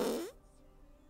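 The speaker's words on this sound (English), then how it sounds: "You sound like a whoopee cushion." A fart sound effect plays on a livestream: a loud, short burst of flappy low rumble lasting about a third of a second, then fading into quiet background hum.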